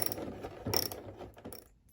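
Screws being tightened on a GE washer part during a leak repair, giving a close series of ratcheting clicks and short mechanical turns with no talking.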